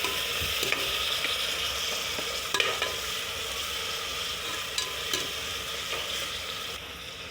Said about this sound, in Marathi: एक टोमॅटो चिरून घेतला आणि छान तेलामध्ये परतवून घेतला